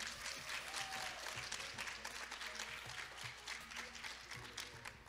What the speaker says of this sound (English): You can give a better round of applause for that.